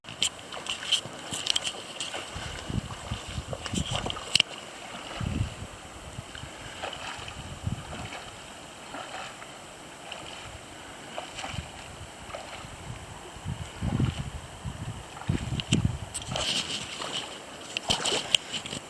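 Water splashes and sloshes as a hiker crosses the shallow French Creek on a wooded trail, with footsteps through the stream, irregular splashes throughout and light wind in the background.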